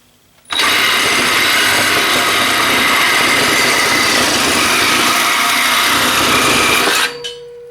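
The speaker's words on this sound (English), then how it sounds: "going to cut through this 1-inch electrical EMT conduit" A Milwaukee M12 Fuel Hackzall reciprocating saw starts abruptly and cuts through 1-inch EMT electrical conduit in one continuous, loud, harsh buzzing burst of about six seconds, then stops.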